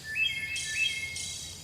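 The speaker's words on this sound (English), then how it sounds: "just take a moment to listen to some nice bird calls" Birds call outdoors, a few short high whistled chirps and warbling phrases repeating close by over a faint low background hum.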